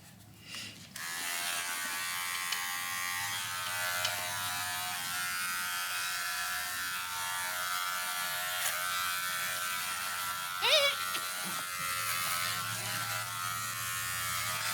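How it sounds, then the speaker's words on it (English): Electric clippers buzz steadily and close up while shaving around a baby goat's horn buds before disbudding, a continuous high whine that holds for the whole stretch, with a brief rustle or bleat near the end. "take our clippers and shave"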